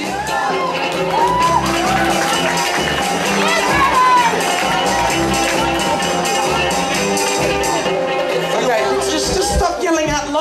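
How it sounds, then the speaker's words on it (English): A large school crowd cheers, shouts and whoops loudly and continuously for its houses at a Wearable Arts 2010 event, with voices mixed through the din. "Round of applause, guys."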